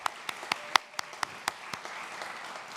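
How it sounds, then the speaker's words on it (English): Sparse, scattered hand claps from a small audience at a panel discussion event: about ten separate claps spread over a few seconds, fairly faint and thin rather than a full ovation. "a round of applause for the American Book Center"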